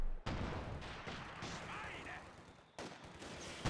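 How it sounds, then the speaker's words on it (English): A grenade explodes in a World War II video game set around the Stalingrad encirclement, a loud sustained blast with rumbling, crackling debris that cuts out, then another sharp burst near the end. "they threw a grenade and wiped out everybody"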